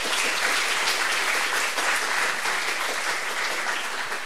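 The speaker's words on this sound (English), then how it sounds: "can I have your round of applause for Hannah Little?" Steady, dense audience applause at a stand-up science comedy night at KU Leuven, loud and continuous throughout without letting up, a room full of clapping hands with no voices above it.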